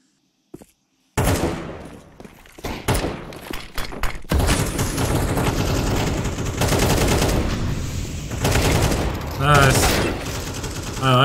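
In Counter-Strike 2, a few isolated shots crack in quick succession and then give way to sustained, loud bursts of rapid gunfire, with dense overlapping reports and a voice speaking beneath the shooting.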